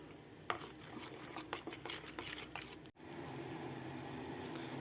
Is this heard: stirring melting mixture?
yes